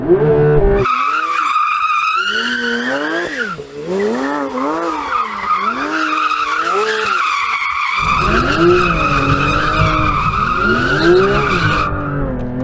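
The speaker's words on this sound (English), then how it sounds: "Now let's warm up the tyres on the 911." Porsche 911 tyres squealing loudly and continuously during a clutch-kick warm-up, the screech wavering up and down in pitch over the engine roar for nearly the whole stretch, close by with no voices.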